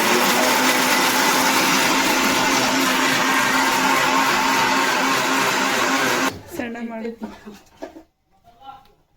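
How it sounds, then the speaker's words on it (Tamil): A mixer grinder blends ingredients for spicy chutney with a loud, steady whirring drone that cuts off abruptly after about six seconds, followed by softer rattling. A voice talks over it. "எப்பா இப்போ வந்து நம்ம இதை மிக்சியில் போடுறோம்."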